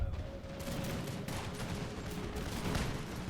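Massed musket volleys crackle from grenadier lines on a Total War battlefield, a dense, continuous rattle of overlapping shots layered over rumbling battle ambience, steady and loud throughout.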